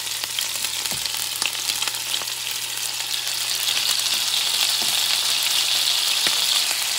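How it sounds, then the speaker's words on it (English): Sardines sizzle and fry steadily in a hot pan as tomato sauce goes in, a dense close crackle that swells slightly louder partway through, with no talking. "And what you do is now you add your tomato sauce."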